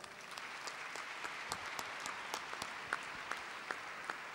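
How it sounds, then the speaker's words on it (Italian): Fairly faint applause from a conference audience greeting an arriving guest, a steady patter of many hands with a few sharper claps standing out, heard from some distance in a large hall. "lo salutiamo con un applauso"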